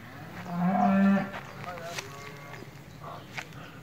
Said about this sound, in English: Cows and calves.